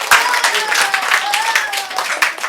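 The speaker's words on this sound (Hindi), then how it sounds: "वेरी गुड, ताली बजा दो।" An audience at a speaking event claps together, a dense patter of hands close by with rhythmic sharp beats and voices mingled underneath.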